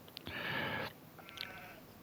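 Sheep bleating in a sheep barn in a video game, one sustained bleat standing clearly alone, followed by a fainter, shorter bleat.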